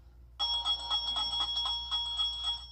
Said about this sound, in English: the sound of a bell ringing as you walk into a store fills the air